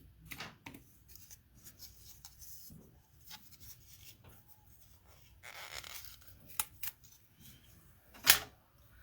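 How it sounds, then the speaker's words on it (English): Paper snips cut frayed and gold shimmer ribbon in a series of soft, irregular snips and rustles, mostly faint, ending with one sharper, louder snip near the end. "I'm going to cut this at 4 inches or 10 centimeters."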